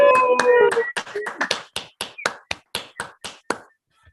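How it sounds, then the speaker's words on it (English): A few people applauding at a book launch celebration, a burst of overlapping claps that thins into a steady series of about a dozen single sharp claps, evenly spaced and fading near the end. "Now it's time for the big cheer."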